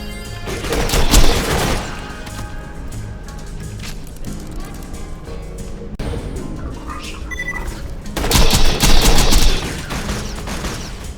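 Gunfire in Borderlands 2: bursts of rapid automatic shots and booming blasts, loud and dense, clustered early and again near the end over continuous game sound.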